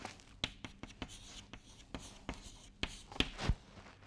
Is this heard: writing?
yes